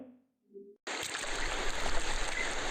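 A steady, continuous rush of sea waves serves as a sound effect in an animated children's story. It starts abruptly after a brief moment of quiet and holds at a moderate, even level.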